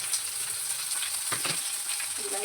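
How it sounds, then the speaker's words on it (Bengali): Green chillies, onion, ginger and garlic fry in a pan with a steady, close hiss, plus a couple of brief stirring scrapes near the middle. "কাঁচা লঙ্কা, পেঁয়াজ, আদা, রসুন এগুলি ভাজা ভাজা হওয়ার পরে আমি এদিকে দিয়ে দিব বিলাহিটা।"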